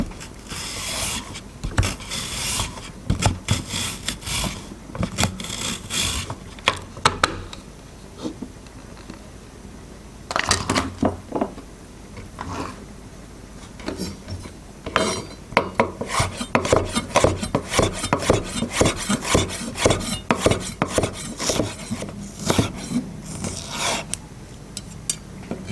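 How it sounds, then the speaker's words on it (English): Ginger sliced on a Japanese mandolin, heard as a close series of rasping strokes that come in uneven bursts, with quieter gaps between runs of fast scraping. "It is so much easier if you use the Japanese mandolin to slice it first before you cut it"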